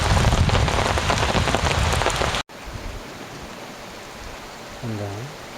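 Heavy rain pours down during a storm at Vikshåland in Oslo, a dense, loud hiss of drops on surfaces that cuts off abruptly partway through, leaving a much quieter, hushed aftermath with a faint low tonal hum near the end.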